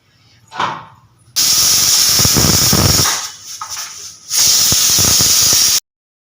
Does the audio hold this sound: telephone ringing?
no